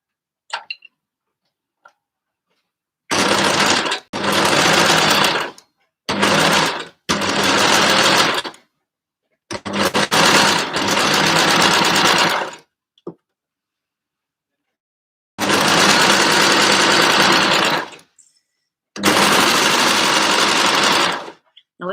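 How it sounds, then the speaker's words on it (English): An overlocker serger stitches around the curved edge of a fluted fabric sleeve, running in several loud, close bursts of rapid mechanical whirring separated by short silent pauses. "I'm just going to overlock around the curved edge of the fluted sleeve"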